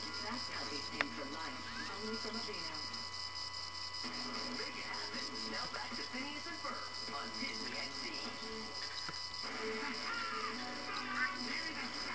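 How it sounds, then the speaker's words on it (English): A bird from the Mo' Creatures mod in Minecraft gives repeated cawing calls inside the game, set against a steady electrical hum while a person talks over it. "look, there's a bird from the Mo creatures thing"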